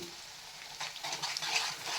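Amla pieces roasting in tempering oil in a pan give a steady, close sizzle and crackle that grows fuller after the first second, with light stirring scrapes and no voices.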